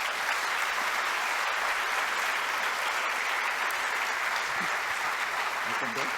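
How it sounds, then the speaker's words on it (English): Dense audience applause fills a conference hall after a keynote lecture at a world congress, a steady wash of many hands clapping at even loudness throughout. "So please have an applause."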